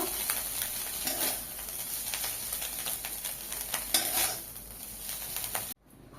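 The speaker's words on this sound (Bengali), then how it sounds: "আবারও তেলে মৌরলা মাছ দিয়ে দেবো। মাছ আবারও ভেজে নিয়েছি" Small mourola fish sizzle steadily in hot oil for a Bengali fish curry with potato, with occasional stirring clinks of a utensil in the pan, close and continuous until cutting off abruptly near the end.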